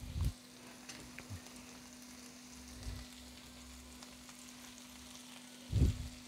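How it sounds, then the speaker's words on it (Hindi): Spinach goes into a frying paneer masala for a Hyderabadi paneer dish, making a soft, low sizzle over a steady faint hum, with a couple of louder thuds and crackles at the start and near the end. "तो अब इसमें हम पालक डालेंगे।"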